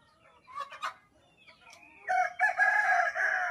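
A rooster crows loudly nearby in a long, rising call, preceded by a few softer clucks.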